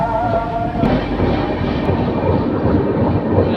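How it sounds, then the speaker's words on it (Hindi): The Mahananda Express passenger train pulls out of Dalkhola station, heard from inside a sleeper coach as a loud, steady rumble with rolling wheel and rail noise. "2 मिनट हॉल्ट के बाद हमारी ट्रेन का डिपार्चर हो चुका डालखोला रेलवे स्टेशन से।"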